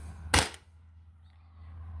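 A CO2-powered Sabre 68 HDL paintball marker fires one shot, a single sharp, close pop followed by quiet with a low steady hum underneath.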